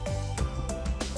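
Vapor Rhino 200 PSI commercial steam cleaner running at full capacity in dry vapor mode, giving a loud continuous hiss with brief surging pulses, close up.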